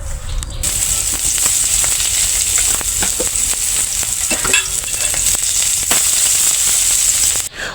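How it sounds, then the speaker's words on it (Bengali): Eggplant fries in a pan with chilli and onion, giving a loud, close, continuous sizzle. Crackling pops and stirring scrapes run through it until it cuts off abruptly at the end. "এখন আমি মরিচ পেঁয়াজের সাথে বেগুনটা ভেজে নিলাম।"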